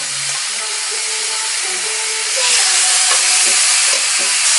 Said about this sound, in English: So I like to put it skin face down so it can get nice and seared.